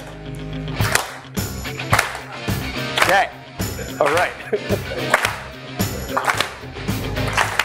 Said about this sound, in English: We gotta find the beat and then we gotta clap to the beat.